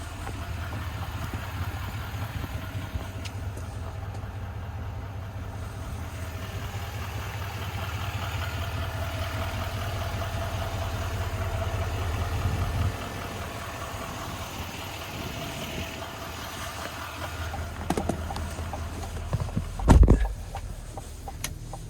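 A 6.6-liter turbo diesel V8 in a 2026 GMC Sierra 2500HD Denali Reserve idles steadily with a deep, constant rumble, close by, with a few brief knocks near the end.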